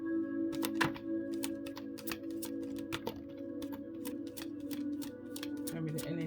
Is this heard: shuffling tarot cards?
yes